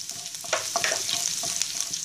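Cumin seeds and garlic frying in a pan, a steady bright sizzle with occasional stirring scrapes and spatters running throughout, close up with no voices.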